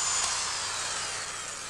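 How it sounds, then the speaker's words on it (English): Power drill boring out a stud on a carburetor base, a steady high whirring grind that holds at even strength throughout with no pauses and no voices. "I'm drilling out our stud here"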